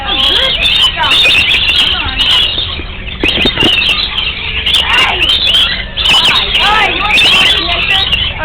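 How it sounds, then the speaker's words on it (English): Birds squawk and chatter almost continuously around a nectar-feeding area at the Aquarium of the Pacific, loud and close, with wing flutters and people talking and exclaiming throughout. "You're being attacked by birds."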